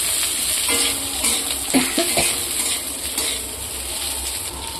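Sliced onions fry in a pan with a steady broadband sizzle, broken by a few clinks and scrapes of a utensil stirring them, close and fairly loud with no talking.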